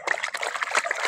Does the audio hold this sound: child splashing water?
yes